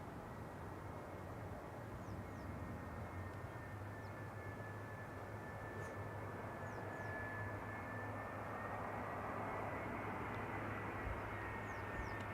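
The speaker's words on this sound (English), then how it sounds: "we're going to see the A380 land on Polderbaan" An Airbus A380 lands on the Polderbaan runway at Schiphol, a faint, distant, steady engine rumble with a thin whine drifting slowly in pitch over several seconds, without any talk.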